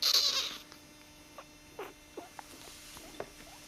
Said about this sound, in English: Listen to this one, how it chortles.